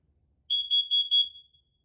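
During a test of newly installed smoke alarms, one unit gives four quick, piercing high beeps in a fast, even row and then goes quiet. The beeps are near and loud against a silent room.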